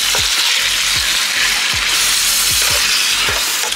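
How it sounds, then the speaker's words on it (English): Green chillies and curry leaves sizzling loudly in a frying pan as they are stirred, a continuous frying hiss with regular scraping strokes of the spoon roughly every seven-tenths of a second. "Mix everything well."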